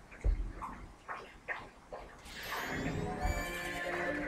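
A horse neighs in the video game Majora's Mask, a loud whinny with a rising then falling pitch. It follows several short game sound effects and rings on to the end of the clip.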